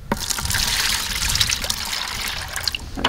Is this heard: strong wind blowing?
no